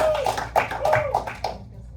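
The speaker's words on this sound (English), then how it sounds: "Let's go ahead and give them a round of applause" A classroom round of applause, with several rapid bursts of clapping over about two seconds, fairly close and moderately loud, mixed with background chatter.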